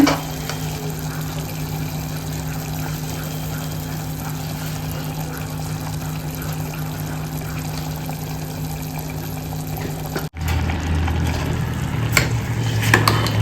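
Valachi khichdi is stirred in a sizzling pan, a continuous scraping and frying hiss that cuts out briefly and then resumes louder.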